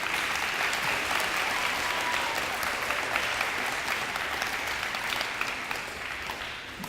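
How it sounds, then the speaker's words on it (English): An audience claps for graduates at a DARE graduation ceremony, steady, full applause from a room of people lasting several seconds and tapering slightly at the end. "please give all these graduates another round of applause"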